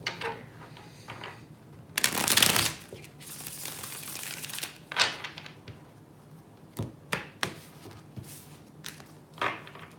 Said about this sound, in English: Need one more shuffle. I'm feeling one more shuffle here.